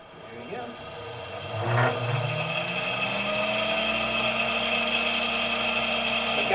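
A 1995 Solectria E10 electric car's motor spinning up under throttle, a rising whine that climbs and then holds at a steady pitch, fairly close and loud.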